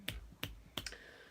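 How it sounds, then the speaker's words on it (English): Three crisp finger snaps ring out close by at an even, unhurried pace, with no voices around them. "snapping my fingers isn't helping"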